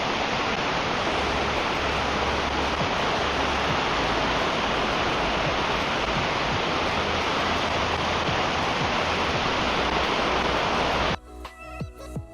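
A small forest waterfall in Malappuram pours with a dense, steady roar of rushing water that stays loud and unbroken until it cuts off near the end.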